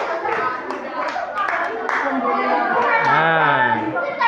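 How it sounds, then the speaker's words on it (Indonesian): Schoolchildren in a classroom clap for a group, a brief burst of close hand claps mixed with lively children's voices and chatter. "Tepuk tangan untuk kelompok 2."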